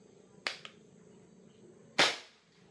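A Snowpeak PR900W .22 air rifle fires two sharp, crisp cracks about one and a half seconds apart, the second louder with a short decay, against quiet outdoor background.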